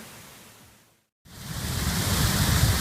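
A waterfall rushes in a steady broadband roar after a brief silent gap, growing loud and constant.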